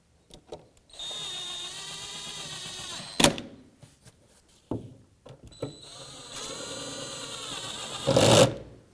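Power tool tightening bolts on the wiper transmission of a 2006-2011 Chevrolet HHR, several short whirring bursts separated by pauses and sharp clicks, close up with no talk.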